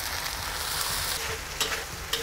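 Loud, continuous sizzling as wine is splashed into a hot wok over stir-fried minced pork, with a couple of sharp spatula scrapes near the end.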